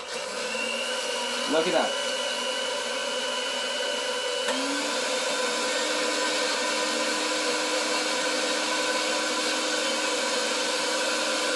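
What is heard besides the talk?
blender blending ceviche leche de tigre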